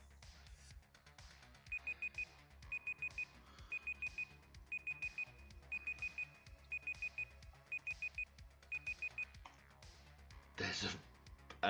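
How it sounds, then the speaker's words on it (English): A Google timer alarm beeps in a kitchen during baking, sounding in short repeated bursts of rapid beeps at a steady rhythm, moderately loud over low background noise. "And I like this random Google timer."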